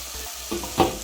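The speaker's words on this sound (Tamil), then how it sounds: "இதை நல்லா வதக்கணும்" Onions, garlic and green chillies sauté in a clay pot for traditional fenugreek curry, a short burst of sizzling and stirring with a louder scrape near the end.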